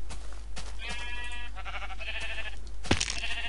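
Minecraft sheep bleat in the game several times in quick succession, short nasal wavering calls layered over a constant low hum, with a brief sharp knock near the end.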